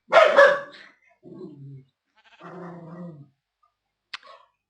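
A dog barks loudly at close range, one strong bark followed by two softer, lower barks and a brief sharp yelp at the end, with no talk over it.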